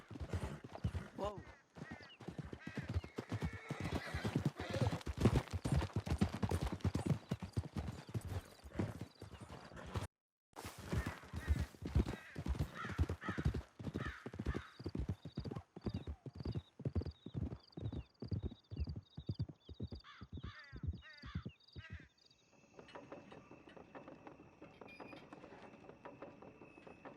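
Horses gallop and neigh in Red Dead Redemption 2, a rapid, steady clatter of hooves with whinnies, fairly faint, running under spoken dialogue before fading out near the end.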